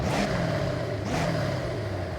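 Modified car engine and exhaust in the racing game Forza Horizon, a steady throaty drone with two rising rev swells, loud and close, no talking.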